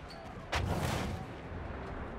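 A single heavy boom from an artillery truck firing in the video game Battlefield 1, a sudden loud blast followed by a lingering rumbling tail over steady battlefield ambience.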